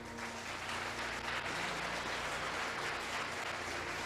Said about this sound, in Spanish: Aplaudile fuerte.